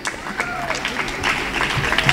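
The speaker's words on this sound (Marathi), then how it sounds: "टाळ्या वाजवायला सांगा सगळं." An audience at a children's theatre workshop closing ceremony claps, a loose patter of applause with some individual claps standing out and faint voices beneath.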